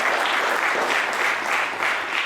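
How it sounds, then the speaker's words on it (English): Dense applause from a live audience at a music show, loud and sustained with steady rhythmic clapping throughout the short stretch, no voices over it. "let's give them a round of applause"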